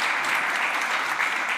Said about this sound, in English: I'll ask for an extra round of applause for Rana